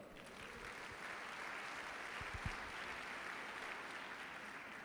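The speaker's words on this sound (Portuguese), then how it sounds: "Vamos dar um aplauso ao Senhor?" A church congregation applauding during a sermon, a soft, distant and steady patter of many hands clapping, low in level and continuing without a break.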